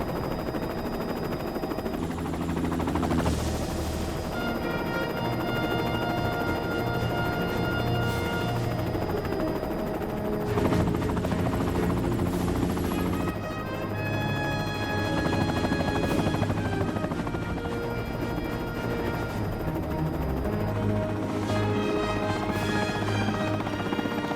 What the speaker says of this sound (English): Launch the Freedom Strike helo.